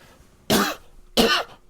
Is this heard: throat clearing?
yes